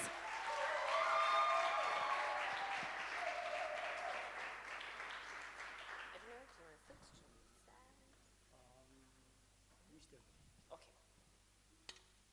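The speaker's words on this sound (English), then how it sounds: "Can we give him a big round of applause?" An audience at a career and business development session applauds loudly, the clapping swelling for a few seconds and then fading out, followed by a voice speaking over a quiet room.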